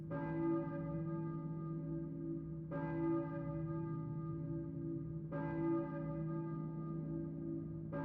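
Church bell tolling in the video game Silent Hill, three slow, resonant strikes spaced about three seconds apart, each ringing out and sustaining under a low, steady ambient drone.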